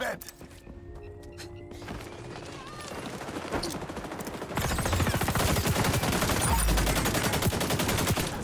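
Rapid automatic gunfire from an AK-47 in the shooter game XDefiant, dense bursts growing louder and nearly continuous in the second half, with thumps and impacts mixed in and a player's voice talking over the action.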